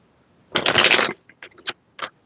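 Tarot cards shuffled close up: one long riffling burst followed by a few short flicks and taps as the deck is handled, with no talk.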